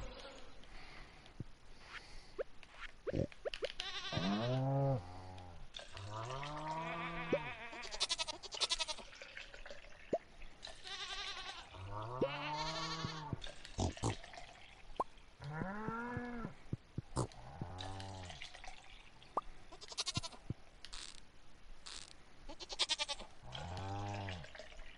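Goats in a farming video game bleat repeatedly in drawn-out, wavering calls, several overlapping at moderate loudness with short gaps between them and no talk over them.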